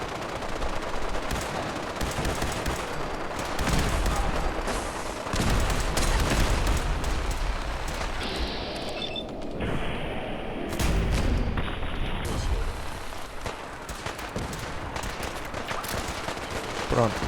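A Fallout 4 gunfire shootout: dense, continuous rattling bursts of automatic fire and single shots crackling throughout at moderate distance, with occasional heavier thuds and a voice talking over parts of it.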